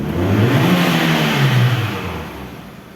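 A Fiat Marea Exclusive petrol engine, recently cured of a hard-starting fault caused by a makeshift aftermarket fuel float, revs up strongly at close range, its pitch climbing and then easing back down over a few seconds with no voices.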